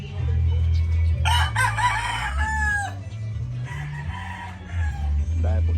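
A fighting rooster crows loudly nearby over a steady low engine-like hum, followed by softer clucking and a second fainter crow.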